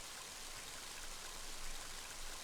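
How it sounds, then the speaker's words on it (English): Heavy rain in the video game Mother 3, a steady dense hiss of downpour with no break, even and unvarying at a moderate level throughout. "Mighty heavy rain, isn't it?"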